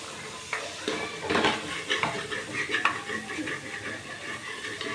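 Misal masala being stirred and roasted in a pan, close scraping and clinking of a spoon against the metal with a faint sizzle underneath.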